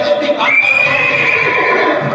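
A horse neighs loudly and close, a long whinny holding steady through most of the burst over a dense, busy background, with a possible faint clip-clop of hooves beneath.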